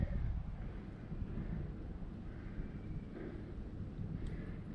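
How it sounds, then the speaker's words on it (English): Steady wind blowing through trees in a logging area, a continuous low rumbling roar with microphone buffeting that stays fairly even throughout. "The wind. I can't do nothing with that blowing."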